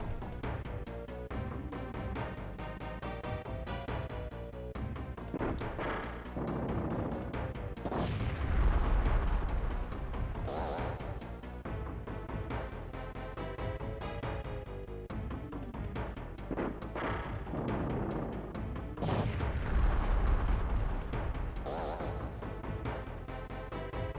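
Repeated cartoonish bomb blasts in the SNES game Super Bomberman 5, with two heavier booming bursts standing out over a steady backdrop of busy game music and effects, no talking.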